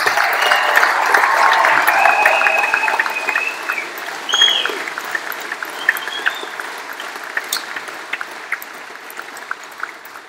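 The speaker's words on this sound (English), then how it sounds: "let's put another round of applause together for our 2018 graduates" An audience at a college graduation ceremony applauds the graduates, with steady, dense clapping that is loudest at first and slowly thins out into scattered claps. A few whistles and cheers rise above it.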